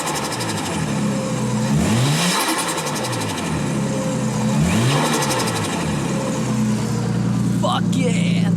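A Nissan RB25 turbocharged engine revs up and falls back in repeated loud pulls, with a fluttering turbo chatter as the throttle snaps shut near the end, recorded up close.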